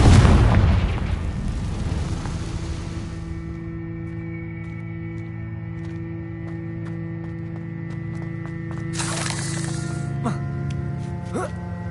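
A Confringo fire spell from Hogwarts Legacy bursts with a loud boom at the start, then leaves a long sustained rumble and ringing tail with a few scattered crackles and a brief hiss later on.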